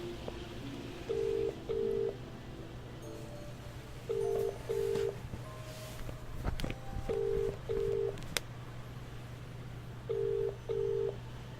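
Telephone keypad dialing at a phone box in a detective video game: short paired DTMF beeps in three bursts of two, over a steady low hum.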